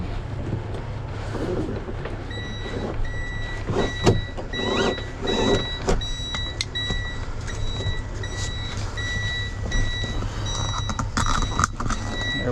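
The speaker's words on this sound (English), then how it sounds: "That beeping is because the door's open and the parking brake's not set." A Freightliner M2 digger truck sounds steady, evenly spaced high warning beeps with the door open and the parking brake off, repeating over an idling engine rumble with occasional clunks and handling noises.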